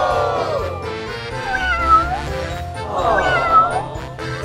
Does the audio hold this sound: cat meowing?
yes